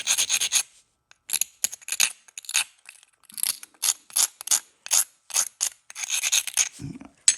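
Repeated short, gritty scraping strokes come from grinding the edge of a Flint Ridge flint piece with an abrasive tool while knapping, each rasping pass close and crisp, separated by brief silences, with a faint low knock near the end.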